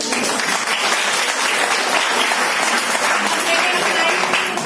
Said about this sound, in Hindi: पहले तो इन्हीं के लिए तालियां